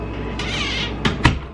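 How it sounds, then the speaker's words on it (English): A cat at the door wanting to come in gives a drawn-out meow, followed by two sharp knocks or thumps against the door, close by in a quiet indoor room. "my cat wants to get in"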